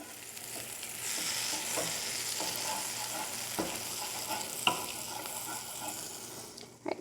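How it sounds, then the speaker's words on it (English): Mushrooms fry in butter in a pan, giving a steady close sizzle with occasional soft scraping and stirring knocks. "I'm going to add a little more butter to the pan and get working on the mushrooms"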